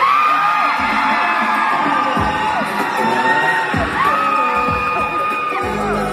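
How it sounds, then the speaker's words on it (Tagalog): A crowd of fans screams and cheers at a live BGYO fan event at Museo Santa Rosa. High, swooping shrieks overlap in a loud, continuous roar, with occasional shouted whoops rising and falling. "isang malakas na sigawan mga aces!"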